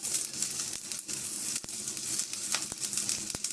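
Cumin seeds and chillies sizzle and crackle in hot oil for tempering, a continuous hiss broken by a few sharp pops.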